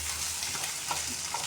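Egg bhurji frying in a pan as it dries out and starts leaving the pan, a steady close sizzle with a couple of faint spatula scrapes.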